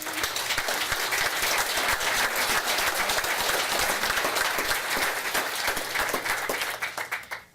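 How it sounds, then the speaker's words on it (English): A community event audience gives a sustained round of applause, dense loud clapping from many hands filling the room and thinning toward the end. "Give him a round of applause."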